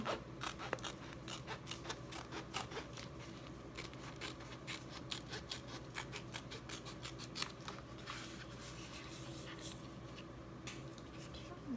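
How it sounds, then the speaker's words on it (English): Scissors snip through the plastic of a Chalk Couture silk screen stencil in a quick series of crisp, close cuts. Some pauses break up the snips, and a voice speaks quietly in the background. "You just cut right along the lines where the silk screen is showing."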